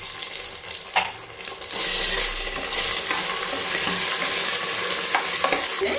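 Ginger garlic paste sizzles steadily in hot oil for mutton biryani, a bright continuous hiss with a few clinks of stirring, growing louder partway through and carrying on alone with no talking.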